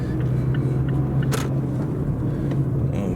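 A car drives around the Tesla Giga Factory in Austin, Texas, with a steady low engine and road rumble inside the cabin and a faint brief tick over it.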